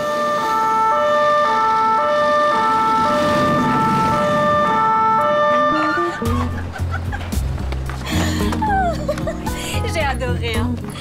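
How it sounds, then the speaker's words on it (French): A police car siren wails loudly in Marseille for several seconds, then gives way to people talking and laughing with a vehicle's hum. "vous avez traversé tout Marseille avec la sirène?"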